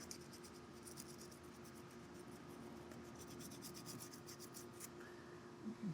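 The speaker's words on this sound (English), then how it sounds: "Got one of these little razor blade scraper guys, and we're just gonna spend the next hour laying under here and doing this." A small razor blade scraper works sealant off a Jeep TJ rear axle, giving a run of quick, close scratchy strokes in an uneven rhythm with a faint steady hum beneath.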